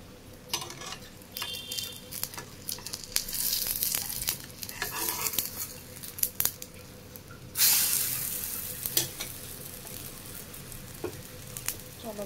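Moong dal chilla batter sizzling and frying in a hot pan, with steady crackle and occasional scraping and utensil clicks, louder in bursts near the end; no talking.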